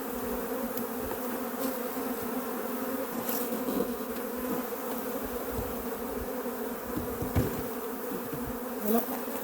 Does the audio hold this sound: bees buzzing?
yes